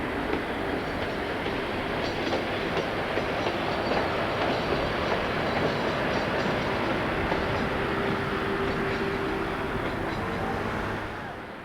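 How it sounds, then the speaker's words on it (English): An SNCF BB12000 electric locomotive, number 12094, pulls a westbound freight train away in a steady, loud roar of wheels and clattering wagons. The noise holds nearly constant close by, then eases slightly at the very end. "the locomotive is seen departing with a westbound freight bound for Lens"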